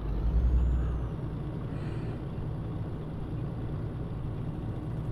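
Air brakes hiss on a truck in Scania Truck Driving Simulator, with one loud release near the start that settles into steady engine and road rumble.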